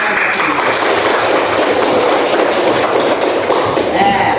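Students clapping together in a classroom, a loud, dense and continuous burst of hand claps that holds steady from start to finish.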